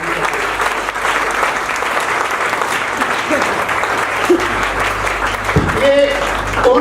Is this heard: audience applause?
yes